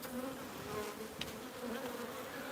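Honey bees in an open hive, on a frame set up with queen cells for finishing, give off a steady, close, continuous hum. There are no voices.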